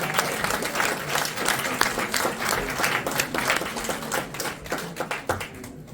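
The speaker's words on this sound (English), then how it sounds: "Please give him a round of applause." A crowd at a petition drive gathering gives a keynote speaker a round of applause, sustained dense clapping from many hands with sharp individual claps standing out, loud and continuous before tapering off at the end.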